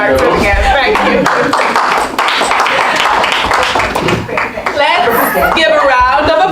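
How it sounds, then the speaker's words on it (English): Audience clapping at a poetry meeting, a scattered round of applause mixed with chatter and voices talking over it throughout, fairly loud and close. "Let's give a round of applause"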